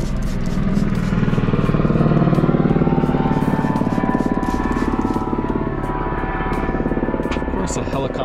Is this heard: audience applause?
no